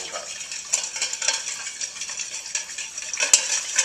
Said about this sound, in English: Now I'm just going to stir this up a little bit.